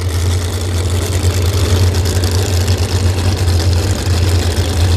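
A Pro Mod drag racing car, the Shadow 2.0, at the 2025 U.S. Nationals, gives off a loud, steady, low engine rumble throughout, with no speech.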